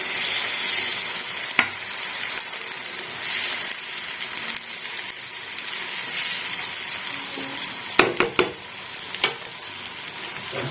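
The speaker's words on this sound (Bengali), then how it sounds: "এবার আমি দুধ ও অল্প জল মিক্স করে দেবো।" Vegetables cook in a pan as milk and a little water are stirred in for a Bengali dudh sukto, a steady bubbling sizzle with occasional spoon knocks and scrapes, several clustered clinks late on.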